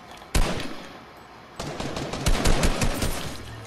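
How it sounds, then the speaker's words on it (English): Video game arena match gunfire: a sharp burst of automatic shots, then a pause and a longer run of close, rapid firing with no talk. "we're getting shot at from another direction"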